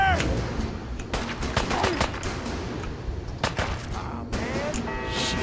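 Bursts of automatic gunfire in Fallout 4 rattle close and loud, in several separate volleys with short pauses between, under a rumbling combat background and a brief voice.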